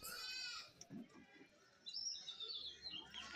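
Goats at a goat market, being loaded onto a vehicle, bleat faintly in short calls, mixed with high chirping and light background rustle, at a distance.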